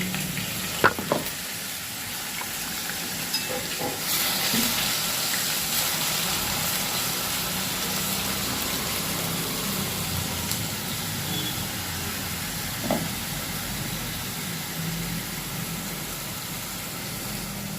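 Onion, garlic, ginger and coconut masala fries in oil for a stuffed onion curry, a steady close sizzle with occasional stirring scrapes and clinks throughout, loud and continuous.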